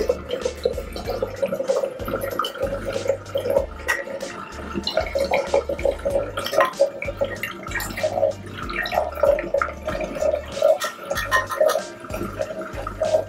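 Water runs and splashes steadily from a nearby hydrogen water generator outlet, with soft dripping and gurgling textures throughout.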